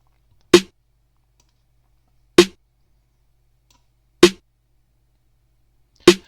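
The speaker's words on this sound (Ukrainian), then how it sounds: "Снайр це такий барабан." A programmed snare drum for a rap beat hits four times alone, sharp isolated cracks evenly spaced almost two seconds apart with silence between them.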